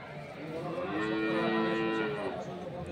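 A dairy cow moos once, a long, loud low call rising and falling at close range amid the murmur of a busy cattle market where a calf is also kept.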